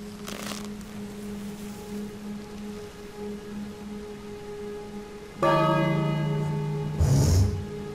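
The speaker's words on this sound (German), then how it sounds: "Dann lasst uns mal läuten." A bell in the King's Quest game rings twice, a resonant tolling strike followed by a second shorter one, set over a low steady background hum.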